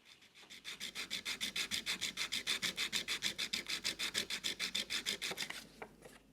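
A steel part from a Lie-Nielsen block plane is lapped on abrasive paper, giving a quick, steady run of about thirty rasping back-and-forth strokes. The strokes are close, fairly quiet and even, and stop just before the end.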